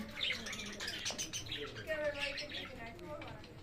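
Small birds chirp and tweet in short bursts near and far at dusk, with a few faint wingbeats, while people talk nearby over the calls.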